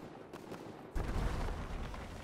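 Gunfire in the video game Fortnite, a rapid burst of distant shots that swells into a dense rumbling barrage after a quieter opening, with no talk.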